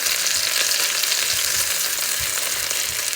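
Shiitake mushrooms stir-fried in a pan, used in place of minced pork, give a steady, close sizzle of frying with soft stirring scrapes throughout.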